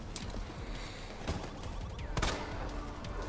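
A shotgun fires in the Resident Evil 2 Ghost Survivors DLC, with several sharp blasts over a dense, busy game soundscape of mechanisms and rumble, with no voices.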